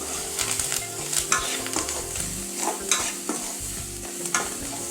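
Ingredients for a spicy uppukandam kathirikkai kulambu sauté in coconut oil, a close, steady sizzle broken by repeated scraping and clanking as a spoon stirs the pan.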